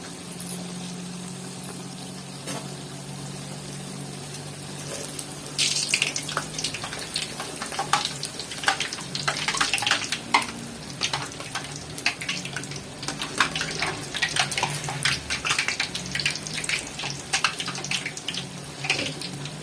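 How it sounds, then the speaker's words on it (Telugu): Puris frying in hot oil in a home kitchen: a steady hiss builds into dense, crackling sizzle with bubbling spurts, close and continuous throughout. "ఈలోపు అయితే పూరికి నూనె అయితే పెట్టాను. పూరి వేసుకున్నాము."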